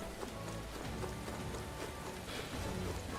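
Rain falls in the video game Metaphor: ReFantazio, a steady, dense patter and hiss on surfaces with soft low rumbling underneath, even in level throughout and without talk.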